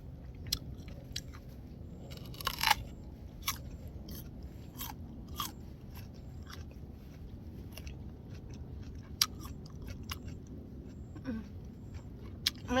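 A crisp peach, peeled, bitten and chewed up close: sharp crunchy bites at scattered moments over steady soft chewing, with no talking.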